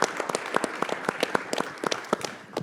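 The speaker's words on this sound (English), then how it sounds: "So please give Bruce a round of applause for joining us today." A conference audience gives a round of applause for Bruce, a retired Riverhead fire marshal, brief and fairly sparse clapping from a modest crowd with individual claps distinct.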